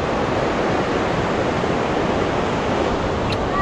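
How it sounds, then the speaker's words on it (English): Ocean surf rolls in at Cannon Beach, Oregon, a loud, steady broadband wash of breaking waves that fills the whole stretch with no pause. "I don't know if the ocean's too loud or whatnot."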